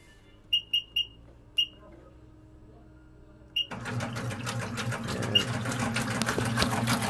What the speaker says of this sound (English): Here's the agitators running.